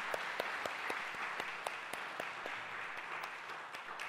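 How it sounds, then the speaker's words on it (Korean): A church congregation at a Sunday worship service gives steady, fairly quiet applause for a newly married couple, the clapping even and continuous throughout, with only faint room murmur beneath. "행복한 결혼 생활 잘할 수 있도록 우리 박수 한번 쳐드리겠습니다."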